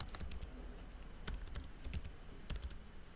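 Typing a command on a computer keyboard: a quick run of close, crisp key clicks in irregular rhythm, ending with a few firmer taps, over a quiet room.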